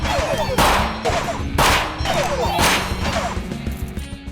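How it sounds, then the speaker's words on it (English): Turrets in the roguelike game 9 Kings fire in rapid bursts of sharp cracks and thuds, roughly every half second, loud and close over a busy game background, trailing off toward the end. "These turrets are going nuts now."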